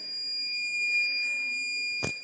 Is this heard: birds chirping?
no